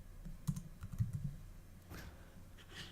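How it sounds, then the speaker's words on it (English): Faint, quick keystrokes on a computer keyboard at a desk, a short burst of clicks followed by a few scattered taps under quiet room noise. "I'm going to type in Google Documents or Google Docs."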